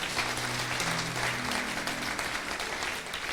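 Church congregation applauding in celebration of the king of kings, steady dense clapping from many hands filling the room, with a sustained low instrumental tone underneath.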